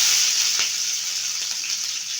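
Curry leaves and green chilies sizzle hard in hot oil with cumin, a loud close hiss that holds steady, broken by a few small pops and crackles.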